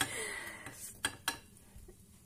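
Gluten-free crêpes are flipped in a pan, with a couple of sharp, light clicks from a utensil against the pan over a quiet background.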